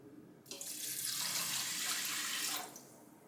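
Water runs steadily for about two seconds with a bright rushing hiss, then stops, poured into an Instant Pot pressure cooker pot nearby.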